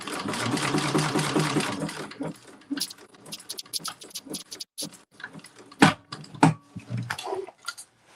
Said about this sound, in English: I've just sewn the pieces together